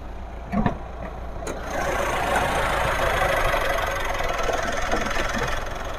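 A Mitsubishi Pajero engine idles in a steady, close, rumbling drone, with a couple of brief knocks near the start and no talking.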